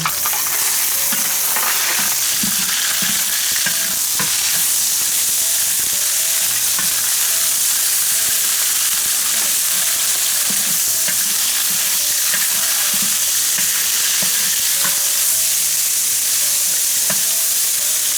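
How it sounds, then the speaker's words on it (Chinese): Ginger, garlic, Sichuan pepper and fish are stir-fried in a wok under a loud, continuous sizzle, with repeated scraping strokes from the spatula close by. "姜蒜、花椒炒香，再把鱼带进去"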